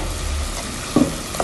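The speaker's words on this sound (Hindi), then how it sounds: "अब इसको हमें 2 से 3 सेकंड के लिए भूनना है, ताकि ये जो इनकी जो खुशबू है वो अच्छे से भुन जाए" Whole spices frying in oil for degh-style shahi beef korma, a soft continuous sizzle with a few scraping stirs of a spoon in the pan near the end, close and brief.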